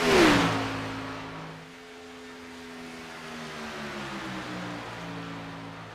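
A race car at Daytona on the last lap roars past close by with a sharp rising-then-falling engine pitch, then the whine of cars fading into the distance under a steady hum.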